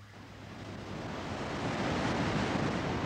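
A waterfall on the Caura River separating its lower and middle stretches gives off a broad, steady roar of rushing water that swells slightly and then holds constant, with no voices.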